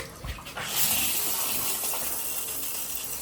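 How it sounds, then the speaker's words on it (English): Low-flow hotel shower head spraying a steady hiss of water, continuous and fairly close, with a brief louder splash near the start and no talking. "Shower head works well."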